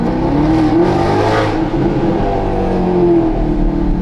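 A Maserati GranTurismo Sport's engine revs loudly and close up, a steady, rich drone that swells and eases with throttle and carries through all four seconds with no talking.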